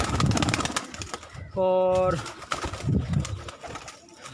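A pigeon gives a short, resonant coo amid a noisy outdoor rooftop scene at a pigeon-flying championship, with people talking before and after it.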